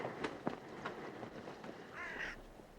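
Crows and ravens call on a cold Arctic coast, several short harsh caws spaced irregularly at moderate distance, ending in a longer, rougher croaking call.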